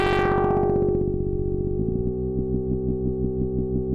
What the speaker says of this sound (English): So VCO1, for example, can be modulated by VCO2.